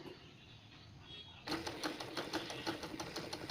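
A sewing machine stitching a ball chain stitch starts after a quiet moment, then runs with a fast, even mechanical chatter, near and distinct.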